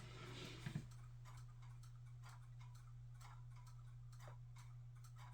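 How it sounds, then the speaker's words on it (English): Quiet, regular ticking of a Kit Kat (Felix cat) clock, steady clicks repeating about once a second over a faint low hum. "If you guys can hear all of my clicking going on in the background, that is my my Kit Kat clock."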